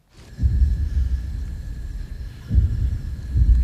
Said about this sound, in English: a rumble sound in parts of the movie that almost sounds like a distant thunderstorm